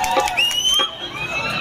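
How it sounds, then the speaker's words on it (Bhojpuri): An audience at a stage show in Vishunpur, Danapur, cheers, whoops and whistles in a brief loud burst, with shouting voices mixed in. "एक बार जोरदार ताली।"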